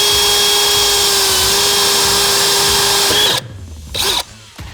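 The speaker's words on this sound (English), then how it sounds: "So I'm actually gonna drill a pilot hole." A power drill whines steadily and loudly while boring a pilot hole in sheet metal inside a Ford Transit Connect van, then stops abruptly and is followed by a few brief clunks.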